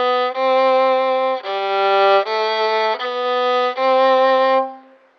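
A violin plays a short scale in first position, sustained notes one after another, clear and close, with the last note fading out.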